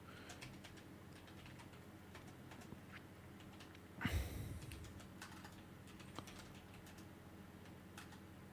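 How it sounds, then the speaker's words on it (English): Computer keyboard typing during a live football watchalong stream of Chelsea vs Leeds United: quiet, scattered key clicks in an irregular rhythm, with one louder thump near the middle and no talk over it. "I'm typing out in the chat,"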